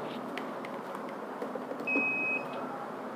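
A wireless WiFi LED display board built from P10 DMD panels with an Arduino and an ESP8266 gives one short, thin buzzer beep as it powers on. The beep sits over a steady, faint room hum.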